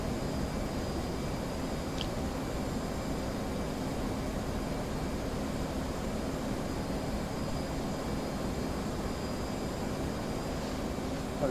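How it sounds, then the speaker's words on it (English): F-15 fighter jets in a flight game roar as a steady, dense engine drone that fills the scene without break, loud and constant, with no voices over it. "Joder, los F-15."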